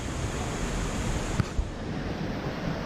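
Water rushes steadily from a waterfall into a river in La Fortuna, Costa Rica, a loud, broad, unbroken roar with a couple of brief knocks midway and no voices.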